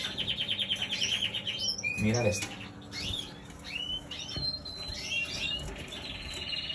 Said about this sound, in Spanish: Mirad qué pajarito tengo por aquí.